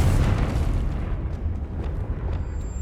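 A Confringo fire spell detonates in the Hogwarts Legacy game as one deep, rumbling explosion that booms at the start. It then rolls on as a dense, low, decaying roar, with faint higher crackles scattered through the tail.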